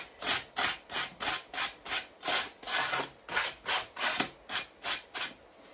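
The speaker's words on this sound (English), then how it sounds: "I often will also take a piece of sandpaper and just sand the edges" Sandpaper rubbed in quick back-and-forth strokes along the edges of a plaster mask, about fourteen even, rasping passes close up with no talking.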